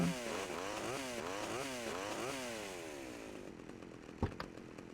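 A chainsaw engine in Grand Theft Auto Vice City Definitive Edition revs loudly in repeated rising and falling bursts, then cuts out and fades, followed by a brief sharp clunk.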